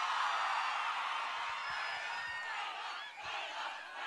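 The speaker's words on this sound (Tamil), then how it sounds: "ஒரு பெரிய கைத்தட்டல் நமக்காக பாடினது கொடுத்தே ஆகணும்." A large crowd at the Ponniyin Selvan 2 anthem launch event cheers and claps for the singers, a broad, steady roar of whoops and applause that stays even and fairly distant, fading slightly near the end.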